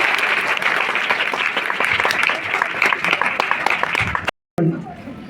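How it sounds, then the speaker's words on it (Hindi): An audience at a Hindi-language meeting claps, a rapid, uneven patter of many hands close by for about four seconds, broken by a brief gap before a voice speaks. "एक बार ताली बजा दीजिए।"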